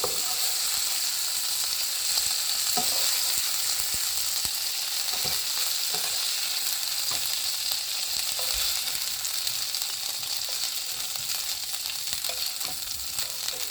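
Seasonings fry in the oil just used for frying shrimp for a Jamaica-style coconut shrimp pasta, giving a loud, steady hiss and sizzle with scattered crackles and occasional stirring scrapes, sustained throughout with no voices.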